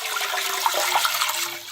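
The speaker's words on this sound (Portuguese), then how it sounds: "vamos começar então colocando 1 litro de água aqui na nossa panela" One litre of water being poured into a cooking pot in a kitchen, a continuous bright splashing rush that holds steady throughout, with no talking.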